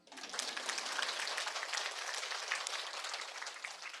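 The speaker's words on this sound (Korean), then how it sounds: "박수 치셔도 됩니다." Audience applause at a Korean Buddhist Sunday lecture, a steady, dense wash of many hands clapping that fills the whole stretch at even loudness without a break.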